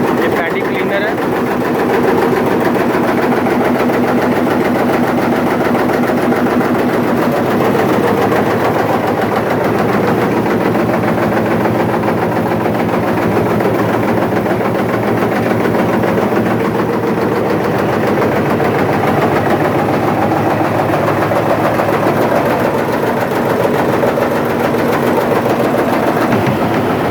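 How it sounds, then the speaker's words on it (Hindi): A paddy cleaner machine runs inside a rice mill with a loud, steady mechanical roar and rattling clatter that continues unbroken throughout. "ये पैडी क्लीनर है।"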